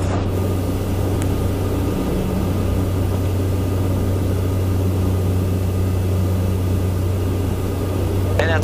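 A Beechcraft King Air E-90 turboprop in flight makes a steady, loud cabin drone with a strong low engine hum, continuous and unchanging throughout.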